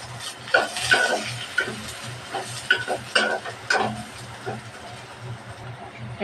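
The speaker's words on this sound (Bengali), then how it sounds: "পেঁয়াজটা ভালোভাবে ভেজে নেব দিয়ে দেবো দারচিনি লবঙ্গ এলাচ তেজপাতা" Sliced onions frying in oil with cinnamon, cloves, cardamom and bay leaf, with a soft sizzle underneath and a series of irregular stirring scrapes of a spatula against the pan, up close, with no talking.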